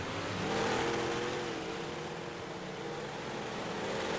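Big block modified race cars running in a racing simulator, a steady loud engine drone with rising and falling revs as the pack circulates, no voices.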